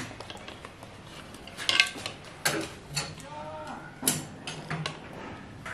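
A knife cuts chicken leg pieces at home, giving scattered soft knocks and scrapes of the blade on a board, faint and close, with no talk.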